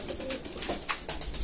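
Pigeons cooing inside an aviary holding fancy breeds such as Indian, almond and kite pigeons; soft repeated coos and rustling close by, alone with no speech.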